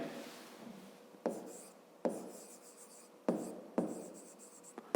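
Pen on paper while working a grade 5 math exercise: quiet scratchy strokes in short bursts, each starting with a light tap as the pen touches down, recorded close with no talk.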